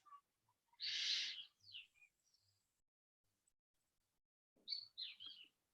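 Birds call outdoors in short bright chirps and trills, a few scattered notes near the start and a brief cluster toward the end, with quiet gaps between.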